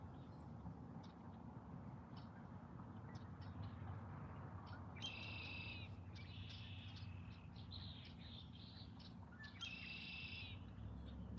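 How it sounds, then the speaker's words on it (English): Birds sing around an open fishing pond, with repeated short bright chirps and trilled phrases coming in bursts over steady faint outdoor ambience, moderately distant and alone without talk. "It's beautiful sounding out here with all the birds."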